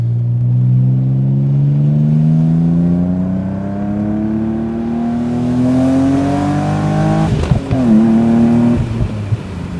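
A BMW Z3M Roadster engine climbs steadily through the revs while driving, then blips sharply on a downshift before settling into a lower gear, close and loud with no talking.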